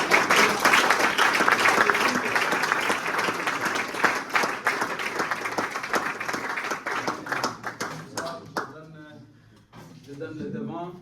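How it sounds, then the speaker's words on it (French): A church congregation at a French-language service applauds and cheers for the Lord, dense loud clapping that gradually thins out and gives way to a voice speaking. "Allez, je peux acclamer pour le Seigneur"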